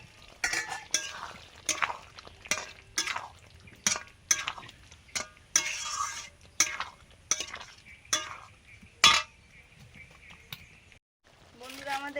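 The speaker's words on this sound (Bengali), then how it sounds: "মশলা কষানোর পরে ভেজে রাখা আলুটা দিয়ে দিচ্ছি।" Fried potatoes tossed into spiced masala in a pan for aloo dum, with repeated sharp spatula scrapes and clinks against the pan in a steady rhythm and a soft sizzle beneath.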